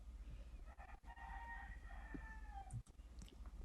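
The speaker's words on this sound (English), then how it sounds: "Hearing the chickens." Chickens clucking and a rooster crowing outdoors, faint and distant under a low steady hum, with a drawn-out crow in the middle and scattered soft clucks around it.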